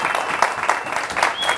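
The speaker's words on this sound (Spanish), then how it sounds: "¡Fuerte el aplauso!" A television studio audience breaks into applause for a guest on a Dominican talk show, steady, dense clapping that carries on for the whole short stretch.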